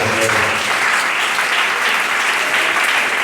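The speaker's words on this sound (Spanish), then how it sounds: "Den un aplauso al Señor de la gloria." A church congregation applauds loudly and steadily, a dense continuous wash of clapping hands filling the room with no pauses.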